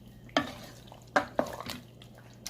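A spoon stirring tinda vegetable curry in a pan, with a few distinct scraping clanks against the metal over a low steady cooking hiss.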